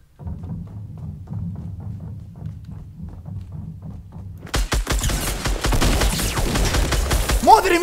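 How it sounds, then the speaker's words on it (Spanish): Gunfire in the Fortnite battle royale game starts abruptly after a quiet stretch of soft rhythmic thumps, then rapid loud shots crackle in a dense, continuous burst. "He disparado sin querer."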